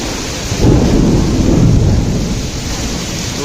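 Loud thunder rumbles and cracks over steady heavy rain during a monsoon storm in Rajkot, with a broad swell of booming noise peaking early and then tailing off into the downpour.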